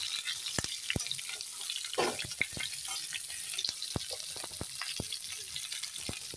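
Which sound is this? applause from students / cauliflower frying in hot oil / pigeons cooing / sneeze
cauliflower frying in hot oil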